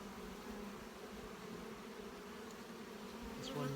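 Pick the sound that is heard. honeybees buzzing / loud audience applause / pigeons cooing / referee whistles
honeybees buzzing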